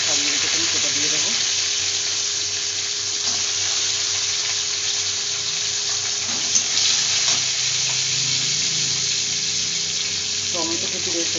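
Cumin seeds and shelled green peas frying in a pan for a vegetarian peas, spinach and paneer dish, giving a continuous soft sizzle with occasional stirring scrapes, fairly quiet and close.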